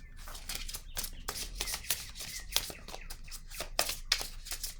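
Tarot cards being shuffled by hand, a quick run of crisp papery riffles and flicks repeating close up, with no talk over them.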